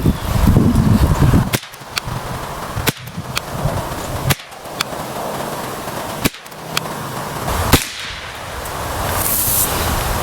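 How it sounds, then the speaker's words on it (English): An AR22 rifle fires subsonic rounds, five sharp cracks spaced a second or two apart at a steady, unhurried pace, each one loud and crisp over an outdoor background with no talking. "Let's shoot 5 more rounds and see if this last bolt hold open works."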